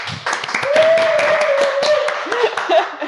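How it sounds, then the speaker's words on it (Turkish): Applause and scattered clapping from a small group, close and lively, with voices and a brief whoop mixed in. "Bir alkış alalım."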